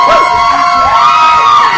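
A studio audience on a dating show cheers and shouts in a noisy burst of overlapping voices and whoops, with a few higher-pitched yells rising above the crowd.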